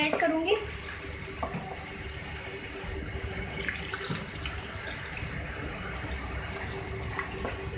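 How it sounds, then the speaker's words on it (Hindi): Two cups of water are poured into a pot of beef and spinach curry (palak gosht), a steady close splashing and running wash lasting throughout. "अब मैं इसमें वाटर ऐड करूँगी।"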